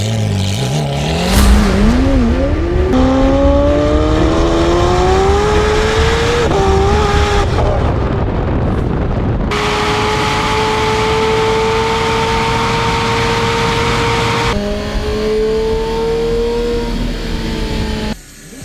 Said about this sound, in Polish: jak słyszeliście, niesamowity układ wydechowy